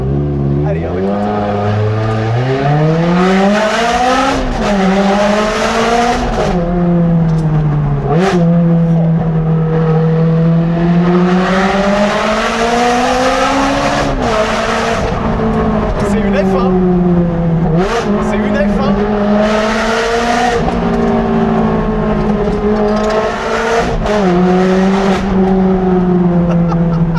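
Ferrari 360 Challenge Stradale on its stock exhaust, revving hard and loud up and down with repeated backfire pops, a continuous close engine roar with voices present.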